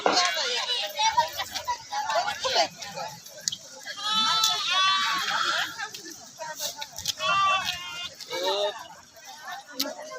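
Sheep and lambs bleat repeatedly at a crowded Sant Balumama palkhi gathering in a farm field, with several wavering cries near and far rising over steady people talking.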